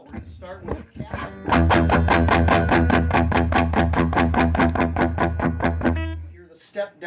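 An electric guitar plays through a 5E3-style amp with negative feedback added, strumming a steady run of chords that are cleaner and lower in gain but still slightly gritty. It sounds loud and close, with brief talk before and after.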